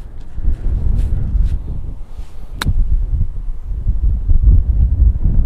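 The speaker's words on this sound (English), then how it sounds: "That wind's stronger than it seems, isn't it?" Gusty wind on a golf course buffets the microphone in low rumbling surges, with a faint rustle and a brief sharp tick partway through; no one speaks.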